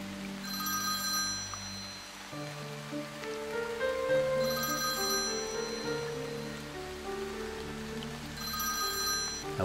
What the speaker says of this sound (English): Then my cell phone rings again.